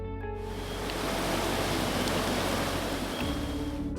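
An icy glacial river rushes past a camp on the Amarnath Yatra route, a steady, loud, continuous roar of turbulent water close by, with no voices.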